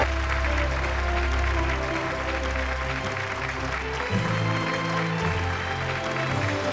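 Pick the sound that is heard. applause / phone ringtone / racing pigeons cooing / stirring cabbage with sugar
applause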